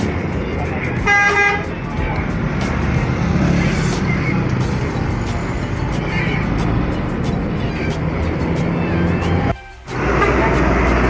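Sumber Selamat bus number 7075 pulling away from a stop in Tulungagung, its horn sounding a loud, clear blast near the start amid steady engine and traffic rumble, with someone talking throughout.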